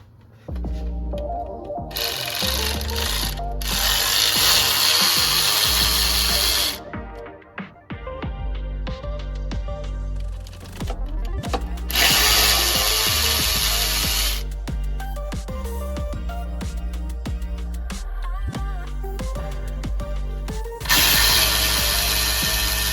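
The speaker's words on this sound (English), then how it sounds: "we just want to go through and remove all of these bolts here to get to the access to the" A power tool, likely an impact wrench or drill, spins out automatic transmission pan bolts. It runs in several loud, sustained whirring bursts with quieter clicks and handling noises between them, and there is no speech.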